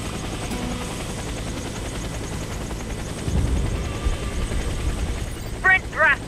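A military helicopter in the Warface shooter game thrums steadily in the background, a low rotor drone with a few louder thumps and brief bursts near the end.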